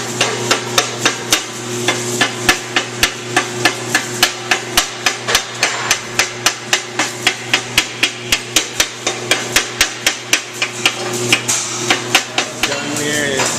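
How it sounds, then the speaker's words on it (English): A hammer chips slag off a freshly laid weld bead on a certification weld, striking in a steady run of sharp metallic blows, about three per second, loud and close with no talk. "I'm going to wait for this to cool and chip the slag off and lay the other bead"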